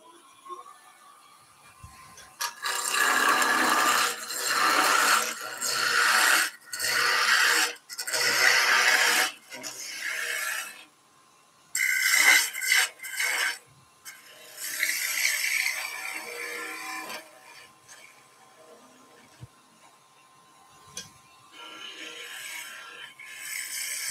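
A 12 mm skew chisel cuts a small wooden Christmas centrepiece on a wood lathe, giving bursts of close, steady rasping scrape separated by short pauses, with no talking.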